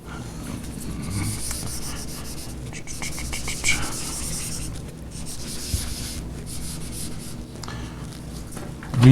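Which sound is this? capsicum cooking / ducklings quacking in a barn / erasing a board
erasing a board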